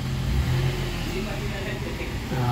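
A Mitsubishi Mirage engine runs steadily at idle, a continuous low mechanical hum with a faint rise near the start, heard up close with no talking over it.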